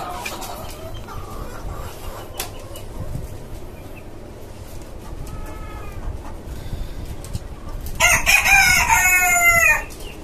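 A rooster crows loudly and close by near the end, after a stretch of quieter rooftop chicken-farm background noise with faint clucking.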